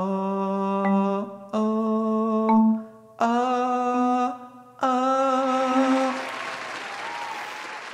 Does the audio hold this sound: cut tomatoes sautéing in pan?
no